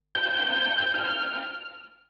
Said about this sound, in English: It's a Pensado preset from the Waves guitar amp.